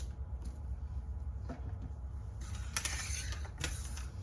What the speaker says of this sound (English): Okay, I'm just going to sew those together.